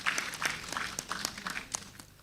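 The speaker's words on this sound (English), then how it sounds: "A round of applause for him once more." Scattered applause from guests at an engineering society's award dinner in Abuja, a thin, uneven patter of individual claps, fairly quiet and heard from some distance in the hall.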